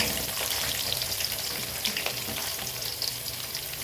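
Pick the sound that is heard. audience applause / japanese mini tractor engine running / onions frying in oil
onions frying in oil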